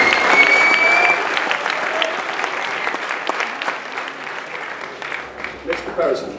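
A crowd at a 2015 bodybuilding show applauds competitors in a toned class, with loud sustained clapping that slowly thins out, and a voice briefly audible over it.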